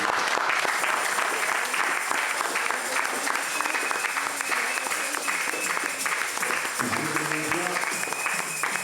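A church congregation at a French-language sermon claps steadily and loudly for several seconds, a dense crowd applause with a voice faintly speaking beneath it.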